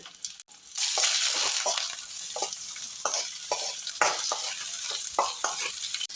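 Chopped onion, a piece of cinnamon and a bay leaf frying in oil in a pan for egg and palak gravy, a steady loud sizzle with repeated scraping stir strokes, close and alone.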